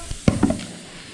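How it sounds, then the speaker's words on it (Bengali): Cauliflower pieces fry in a pan at home: a short burst of stirring scrapes and a light sizzle, close by, that fades after about half a second. "এখন হচ্ছে ফুলকপিগুলো একটু ভাজছি"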